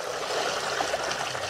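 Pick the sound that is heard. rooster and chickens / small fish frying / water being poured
water being poured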